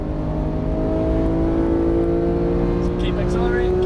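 Porsche GT3 engine pulls hard under acceleration on the Las Vegas Motor Speedway track, a loud steady engine drone rising in pitch heard from inside the car for the whole stretch.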